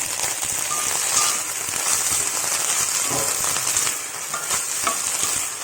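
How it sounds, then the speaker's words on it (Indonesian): Chili peppers sautéing in a little oil for soto Lamongan, a steady close sizzle and crackle with occasional stirring scrapes, no voices. "Ini masukkan juga udah cabai kita tumis."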